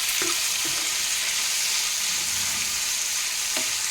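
Raw banana slices sizzle steadily in a hot pan, a continuous bright frying hiss with a few soft scrapes of stirring, close and alone without voices.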